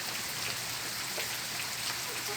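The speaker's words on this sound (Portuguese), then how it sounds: "E a chuva lá vai." Steady rain falling outdoors, a continuous even hiss of drops on surfaces with no pauses and no voices.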